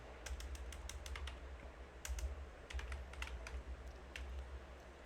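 Quick bursts of computer keyboard typing as a host name is entered into a PowerShell session, clustered keystrokes with short pauses, close and fairly soft.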